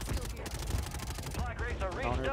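Rapid gunfire from the Call of Duty Warzone video game rattles continuously and loudly, mixed with game effects and voices talking over it.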